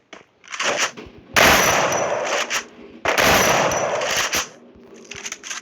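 Rapid automatic gunfire from a Free Fire 1v1 custom match, loud bursts in two long volleys with short stuttering shots between them, no talking.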